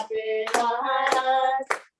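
Three sharp hand claps land in rhythm beneath a sustained sung melody in a hallelujah gospel-style song, each clap crisp and close.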